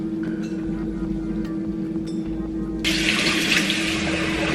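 Water splashes at a bathroom sink while someone washes their face, soft faucet flow and hand splashing near and quiet, growing into a louder, brighter gush of running water.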